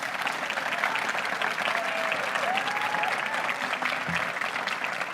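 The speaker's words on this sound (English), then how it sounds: "So a big applause for all EADA team," A ceremony audience applauds steadily for the EADA team at an international masters closing ceremony, a dense wash of many hands clapping throughout, with no speech.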